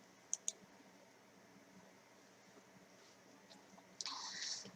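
A computer mouse clicks sharply twice in quick succession in a quiet room, followed a few seconds later by a soft, brief rustle.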